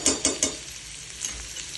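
Garlic frying in hot oil for egg bhurji fried rice: a steady, moderately loud sizzle opens with three quick stirring scrapes in a row, then settles into a softer, even crackle with no voice.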